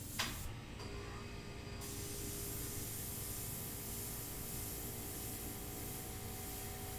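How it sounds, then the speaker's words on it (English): Steady broadband airbrush hiss as paint is sprayed onto a sepia portrait, continuous and fairly loud for the whole stretch after a brief start, with no talking. "let's take out the airbrush."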